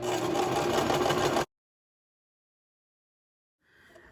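A Brother LX2375 sewing machine runs a basic straight stitch in a steady, close whir for about a second and a half, then stops dead; a faint sound returns near the end.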